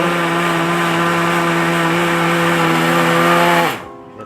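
A kitchen blender grinds a fishing bait mixture for patin catfish. A loud, steady motor whine runs close by, then drops as the blender is switched off and winds down near the end.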